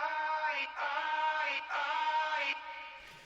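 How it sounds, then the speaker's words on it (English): A sustained vocal track processed with filter, distortion, reverb and tape phase swells in three phrases with brief gaps, its tone filtered with a distorted edge and a reverberant wash. "Some filter, some distortion, some reverb, some tape phase."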